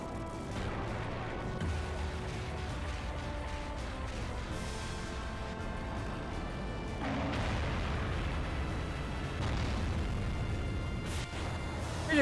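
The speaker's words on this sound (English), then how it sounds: "You just bombed that tower." A bombing explosion strikes a tower in Final Fantasy VIII, with a rumbling blast that swells partway through over continuous battle noise and a further boom afterward.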